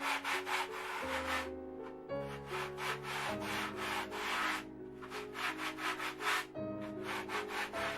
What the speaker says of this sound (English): now I'm going to get my sanding sponge, smooth all this out.